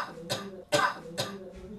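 Three separate harsh coughs from a person with fever and cold, spaced evenly about half a second apart, close and fairly loud, with the middle one strongest and a fainter fourth at the end.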